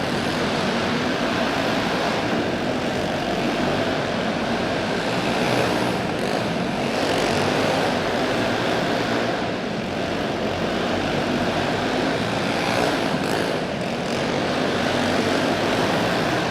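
Stock cars race at the Lowe Boats I-44 Winter Shootout, their engines blending into a loud, continuous roar that holds steady throughout with only slight swells, heard as a dense wall of sound without talking.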